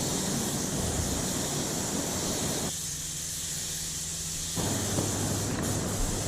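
Spray paint hisses from a spray gun onto a Vespa GTS scooter during a repaint, a loud continuous airy rush that drops back briefly in the middle and then resumes.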